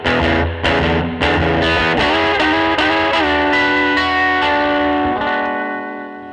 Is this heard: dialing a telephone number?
no